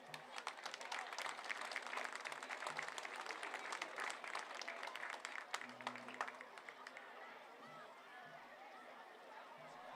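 Crowd applause at a high school football game honoring a senior player, sustained clapping from many people in open stands with scattered chatter and a voice over the noise.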